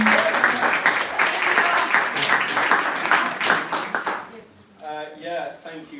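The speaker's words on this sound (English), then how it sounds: "Thank you very much. Round of applause." An audience at a design talk gives the speakers a dense round of applause. The clapping stays loud for about four seconds and then stops abruptly, followed by a short spoken line.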